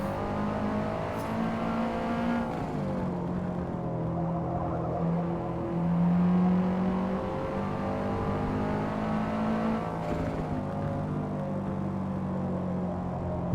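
A race car in Forza Motorsport accelerates out of a corner, its engine droning steadily and rising in pitch, loud and close with no talk.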